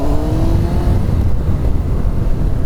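A 1999 Kawasaki ZX-9R motorcycle engine revving up close, loud and steady with a rising whine that fades into a rough, sustained engine roar.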